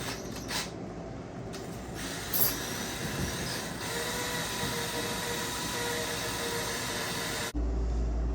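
Continuous whirring of a power drill with a mixer attachment stirring epoxy, running steadily for several seconds, with brief clicks near the start and an abrupt cutoff near the end.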